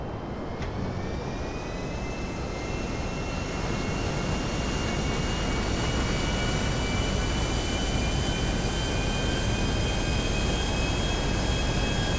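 Small private plane engine in a video game, a loud, steady drone with a rising whine held throughout, no talk over it.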